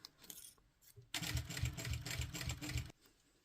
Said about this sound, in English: Switch my machine on. Okay, and then we're just going to stitch along that fold line.